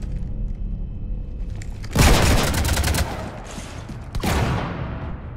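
Gunfire striking a ship in the Mass Effect 3 video game: two loud bursts of impacts and booms, the first at about two seconds and another near four seconds, over a low mechanical hum, with no talking.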